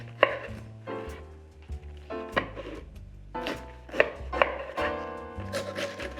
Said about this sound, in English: We'll cut it in half, and then cut each half in half.